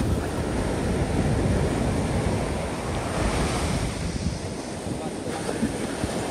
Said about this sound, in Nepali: समुद्रको छाल कस्तो भइरहेछ